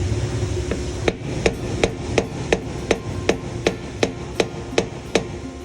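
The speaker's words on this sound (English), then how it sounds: "turn at the same time while tapping with a screw hammer" A hammer taps a screw in a steady series of about a dozen sharp, ringing metal strikes to loosen it during a brake job on a Santa Fe, close and fairly loud over a low background hum.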